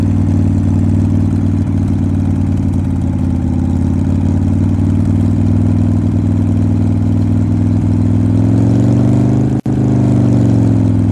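A motorcycle engine sound effect played from an augmented-reality demo book, a steady loud idling engine drone with harmonic tones that rise slightly near the end, with a brief dropout just before it resumes.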